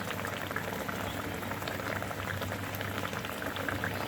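Shrimp and bitter gourd batter dumplings go into a pot of vigorously boiling liquid, which gives a steady, close bubbling and gurgling throughout.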